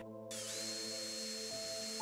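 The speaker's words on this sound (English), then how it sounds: "drill through the jig" A power drill whines steadily as it bores through a wooden jig into the edge of a door board, close and continuous, with pitch shifting slightly under load.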